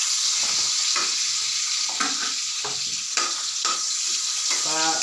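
Onions sauté and brown in a hot pan after garlic, a constant loud sizzle broken by a few scraping stirs and clinks of a utensil against the pan.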